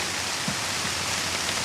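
Steady rain falls through woodland, a dense even hiss of drops on leaves and ground with no voices, continuous and fairly close throughout.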